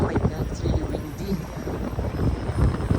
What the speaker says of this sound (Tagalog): Oh my God, it's really windy.